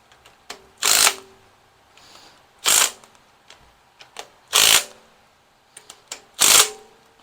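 An electric ratchet tightening intake manifold bolts on a Ford 302 small-block V8, four short loud whirring bursts about two seconds apart with faint clicks and handling noise between them, close.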